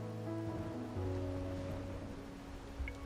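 Steady rain falls in the Wuthering Waves video game as an even, soft hiss throughout, with sustained low musical tones humming underneath and a faint drip standing out near the end.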